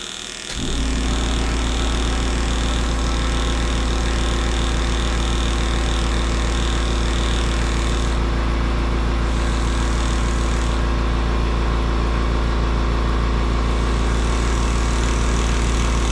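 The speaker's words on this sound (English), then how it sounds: "I really like this California Air Tools compressor." A California Air Tools air compressor starts up and runs with a steady, loud motor drone and hum that holds unchanged for over fifteen seconds, close by with no talk.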